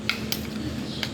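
A metal utensil stirring food in a pan in a home kitchen, scraping and clinking lightly in three quick taps within about a second, close and fairly quiet.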